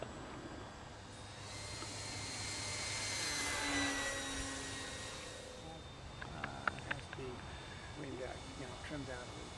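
A ParkZone Sport Cub RC plane flies at full throttle, its electric motor whining as it passes, building to a peak at mid-pass and then fading. Light talk and a few clicks follow.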